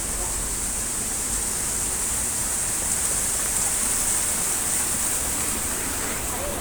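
Water pours down a flight of outdoor stairs in Chongqing Park, making a steady, dense rushing wash like a small waterfall that holds constant and fairly close throughout, with no voices over it.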